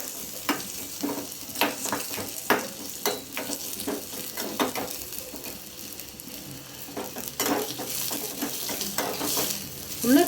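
Asafoetida sautés in a pan for a brinjal and tomato kothsu, with a crackling sizzle and repeated rhythmic scrapes and clatter of a spoon stirring against the metal.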